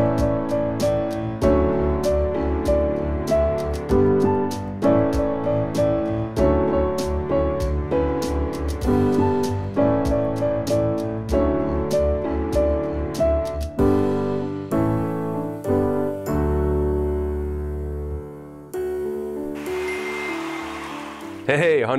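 Chorus of a song played on piano as an intermediate arrangement, with steady chords and melody throughout. The playing thins out near the end and closes on a held, fading chord.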